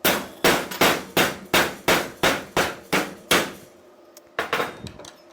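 A hammer drives a chisel into metal in a motorcycle machine shop: nine loud, evenly spaced metallic strikes ring out, then a short pause and two or three more blows.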